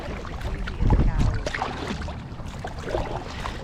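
Kayak paddling on Webb Lake in Florida on a windy day, with water sloshing against the hull and gusty wind noise, a louder splashy burst near the start, and faint voices in the background.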